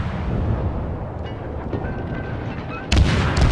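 Guns of the Russian tier 5 destroyer Gnevy firing in World of Warships: a low rumbling roar of battle, then a sharp loud salvo burst near the end.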